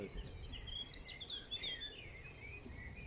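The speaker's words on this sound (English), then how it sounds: "he's a little grey and brown bird, with the male has a black cap, that's why he's called a black cap" Faint, warbling song of a Eurasian blackcap rises and falls over a low background rumble during a UK dawn chorus, brief melodic phrases repeating without pause.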